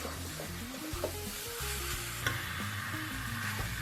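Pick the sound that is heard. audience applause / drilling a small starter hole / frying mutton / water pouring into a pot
frying mutton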